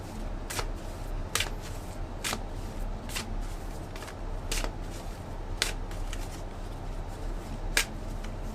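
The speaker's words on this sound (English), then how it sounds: "Now I'm going to pick 3 cards for you, 3 advice cards for Capricorns" Tarot advice cards are shuffled and drawn by hand, close up, with a series of sharp riffling snaps recurring roughly every second over a quiet room background, no talking.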